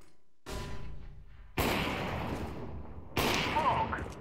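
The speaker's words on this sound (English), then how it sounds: "Throw in the flashbang." Gunfire bursts and a flashbang grenade blast in the video game CS:GO on the map de_cache, coming as loud sharp onsets that then sustain as broadband noise, with a faint voice underneath.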